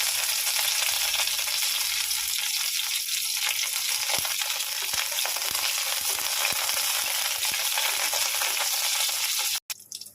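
Curry leaves and cumin seeds sizzle in hot oil in a pan, a loud, dense, continuous frying hiss with scattered crackles and pops, close up and without talk, cutting off abruptly at the end.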